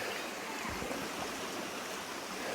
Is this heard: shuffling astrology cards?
no